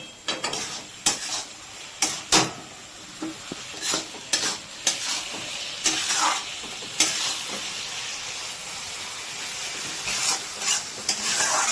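Paneer bhurji is stirred in a frying pan with a spatula. Repeated scraping strokes come in an uneven rhythm over a constant sizzle, close and fairly loud, with no talking.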